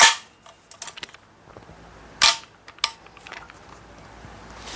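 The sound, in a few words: airsoft AKMN carbine gun being test fired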